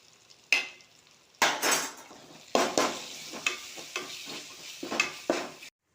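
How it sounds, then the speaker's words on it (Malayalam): Ginger garlic paste being stirred into onions frying in oil, bursts of sizzling and spatula scraping against the pan with a few clinks, separated by short quiet gaps, ending abruptly. "നമ്മൾ ഇഞ്ചി വെളുത്തുള്ളി പേസ്റ്റ് ചേർക്കാൻ പോകണേ"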